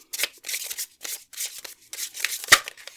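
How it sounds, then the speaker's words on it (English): Tarot cards are shuffled by hand in a series of quick, crisp riffling bursts with short pauses between them, close and fairly loud, with a sharp snap near the end and no talk. "We're going to do another shuffle"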